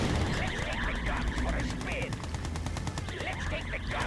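Rapid machine gun fire from units in the real-time strategy game Red Alert 2: Yuri's Revenge, a steady chattering burst running the full length under busy battle noise and occasional game voice lines.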